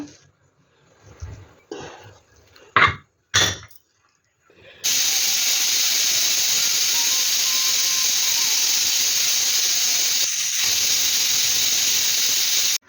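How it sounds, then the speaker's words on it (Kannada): A pressure cooker with goat leg soup inside hisses continuously with a loud, steady rush of escaping steam after a few sharp clatters and knocks. "ಕುಕ್ಕರ್ ಮುಚ್ಚಳವನ್ನು ಮುಚ್ಚಿ ಸುಮಾರು ಒಂದು 8ರಿಂದ 10 ವಿಷಲ್ ಬರಬೇಕು"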